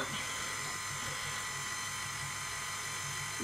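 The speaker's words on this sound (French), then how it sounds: "Je démarre le pétrissage avec le crochet." A stand mixer starts kneading bread dough for a cereal loaf with its dough hook, giving a steady, close, high-pitched motor whine that stays even throughout, with no speech over it.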